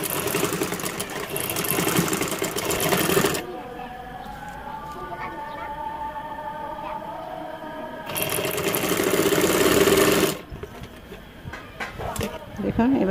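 A sewing machine stitches piping onto a baby boy's shirt in two fast whirring bursts, with a quieter stretch of someone talking in between.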